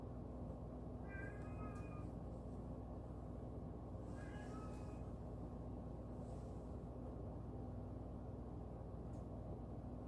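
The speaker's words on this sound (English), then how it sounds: "I think I hear a cat crying." Faint cat meows sound twice, a short cry and then a second one a few seconds later, far off beneath a loud constant background hum.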